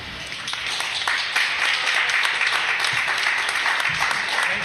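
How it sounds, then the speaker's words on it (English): A crowd at a poetry reading gives a round of applause, a dense wash of clapping that swells after the first second and stays loud and steady to the end. "I'd just like all of you just give him a big round of applause."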